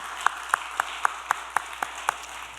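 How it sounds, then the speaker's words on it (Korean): Evenly spaced claps ring out in a steady rhythm from a church congregation at an afternoon worship service, each clap sharp and distinct over a quiet room with no talking. "우리 박수하겠습니다"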